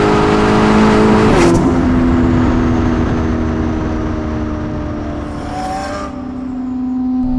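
A 1000hp Novitec-tuned Ferrari SF90 accelerates hard on a street, its loud, close engine climbing through a gear change and then pulling up again in a continuous roar, with no voices.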